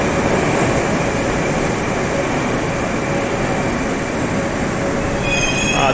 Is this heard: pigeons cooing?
no